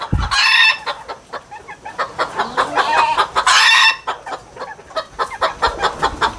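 A rooster and two hens cluck and squawk close by, with loud bursts of crowing-like calls at the start and middle and rapid repeated clucks between, no talking.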